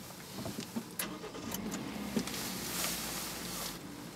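A Kia Picanto 1.25 EcoDynamics city car with start-stop is driven on the Millbrook city circuit, its quiet engine humming faintly with a few soft knocks and clicks from the cabin.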